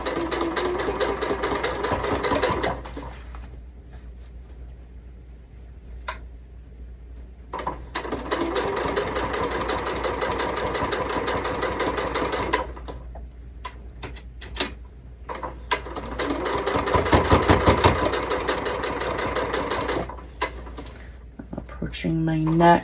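A sewing machine stitches quilt block seams for a Rising Sun quilt block in bursts of rapid, steady mechanical chatter, pausing between runs, with someone talking over and between the stitching.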